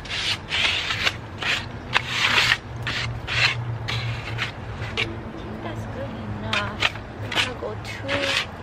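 Medium sandpaper rubs by hand over a plant stand in quick, rhythmic rasping strokes, close and fairly loud, with some talking in the background.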